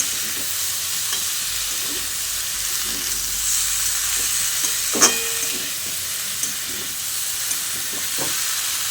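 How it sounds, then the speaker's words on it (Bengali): Cabbage being stirred and sautéed in a pan, a steady soft sizzle and hiss with occasional scraping stir noises and a brief clink, no talking. "এবার বাঁধাকপিটা দিয়ে খুব ভালো করে কষিয়ে নিতে হবে।"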